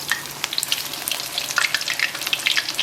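Camembert cheese fries in a pan with a busy, crackling sizzle of quick pops and spits, close and fairly loud, without any talk.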